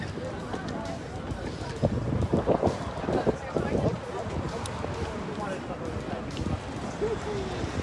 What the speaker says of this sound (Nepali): हावा पनि चलिरहेको छ